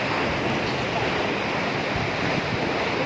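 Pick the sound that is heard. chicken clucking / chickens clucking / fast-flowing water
fast-flowing water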